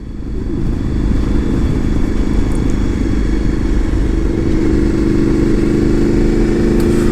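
A Honda VFR750 motorcycle engine with the exhaust baffle removed runs loud and steady, a deep throaty rumble that rises slightly as it revs, with no one speaking.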